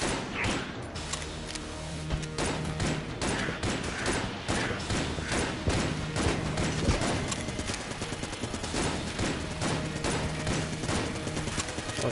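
A Gatling gun in a video game fires in rapid, continuous bursts, a dense stream of loud, close shots with mechanical clatter that carries on for the full stretch without pause.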